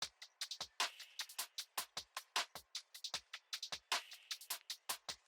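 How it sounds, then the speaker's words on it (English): Two trap-style hi-hat loops with the low end filtered out play together, bright crisp ticks in fast, syncopated rolling patterns, close and steady with no voices. "we have these two trap hat trap style loops that I filtered all the low end out of each"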